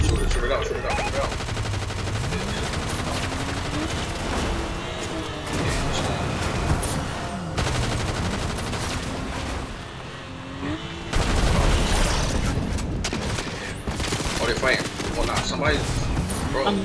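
Dense Fortnite gunfire rattles through most of the stretch, with bursts of shots over a busy game soundscape and a short lull before a loud final volley; voices come through in places.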